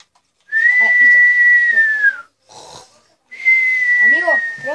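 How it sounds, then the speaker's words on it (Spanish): Loud snoring in two long cycles, each a rasping intake followed by a sustained whistling exhale, close and prominent with a short gap between them. "creo que se ronca muy fuerte"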